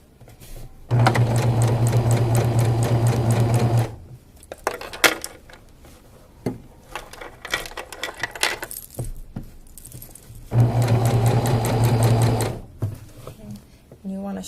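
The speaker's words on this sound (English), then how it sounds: "I'm just going to stitch all the way down, taking out the pins as I get to them" A sewing machine stitches fabric in two loud, steady whirring bursts, with a person talking in the quieter stretches between runs and small clinks of handling.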